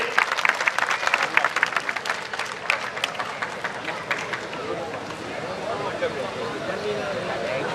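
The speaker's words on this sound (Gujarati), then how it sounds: "ભાઈ આપણે તાળીઓના ગડગડાટથી વધાવીએ છીએ." An audience at a Gujarati dayro folk gathering in a temple courtyard breaks into dense, sustained clapping, close and loud, that thins slightly toward the end.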